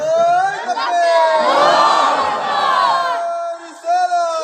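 Large crowd at a Eid-e-Miladunnabi gathering loudly shouting the takbir in unison, a sustained roaring chorus of many voices that swells and then breaks off near the end.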